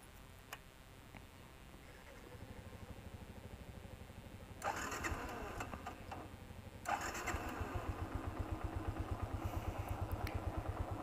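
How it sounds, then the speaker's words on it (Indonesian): A 2013 Yamaha Byson motorcycle engine starts after a quiet stretch, catches and settles into a soft, even idle with a regular ticking pulse, heard from close by. "untuk suara mesinnya itu sangat halus, knalpotnya juga sangat halus. Coba kita dengarkan."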